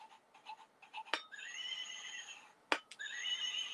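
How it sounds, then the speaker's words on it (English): A horse whinnies in two long shrill neighs, each opening with a sharp burst and trailing into a wavering tone, preceded by short soft snorting calls, close and clear against quiet. "And this is actually my horse named Racism"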